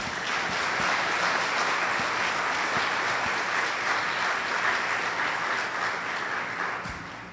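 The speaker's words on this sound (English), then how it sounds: "Ladies and gentlemen, please give a round of applause for the President and" Steady, full applause from an audience welcoming the President of Guyana at a conversation event on the environment, a dense even roar of clapping that holds for several seconds before easing slightly at the end.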